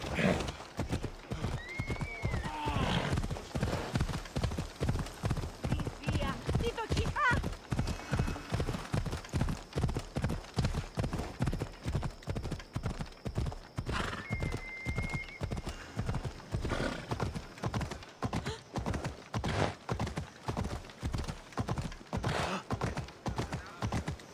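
A horse gallops in Assassin's Creed Odyssey with fast, steady hoofbeats that run the whole time. A couple of brief neighs rise above the hooves, and faint voices sit under the gallop.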